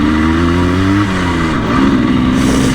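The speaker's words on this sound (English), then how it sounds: "That's been the Yamaha RS 125 two-stroke single." A 1984 Yamaha RS 125 two-stroke single-cylinder motorcycle, its loud, close engine holding a steady buzzing note, dropping in pitch, then rising again as the throttle is worked.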